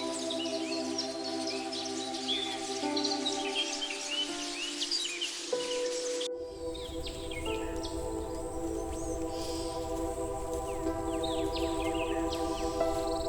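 Migratory birds calling in the winter wetlands of Bangladesh, a dense mix of chirps and tweets over a steady hum, the scene shifting abruptly midway to a different set of calls against a rumbling background.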